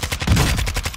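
Gunfire in an online multiplayer shooter, a quick burst of several loud, close shots in rapid succession over about a second, with no talk.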